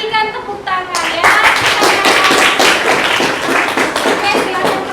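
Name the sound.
applause for presentation group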